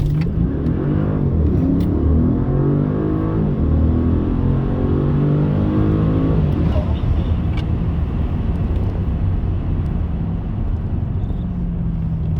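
A 2015 Audi C7 S6 with the 4.0T V8 and APR Stage 2 tune launches hard under launch control, its loud engine roar climbing steadily for several seconds before shifting and pulling on, with no talk over it.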